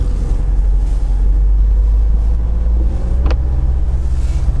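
A Lada Niva off-road car drives through mud in the rain with a loud, steady low engine rumble and heavy wind buffeting the microphone, close and continuous, with one brief higher squeak partway through.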